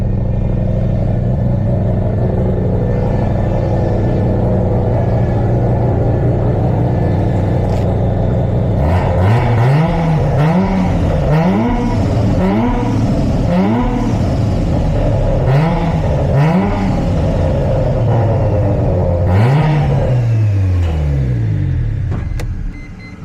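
Mazda RX7 FD rotary engine running steadily at a close, loud idle, then revved repeatedly in a series of quick rising and falling blips before settling, with no talk over it.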